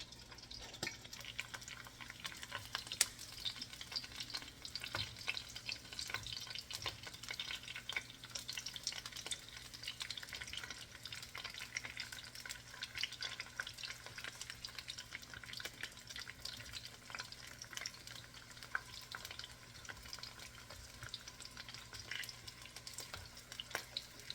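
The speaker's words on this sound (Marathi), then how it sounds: "याप्रमाणे साईड्स त्याच्या भाजून घ्यायच्या" Stuffed capsicum roasts in a covered pan with a steady, faint frying crackle and scattered pops throughout, unbroken and without voices.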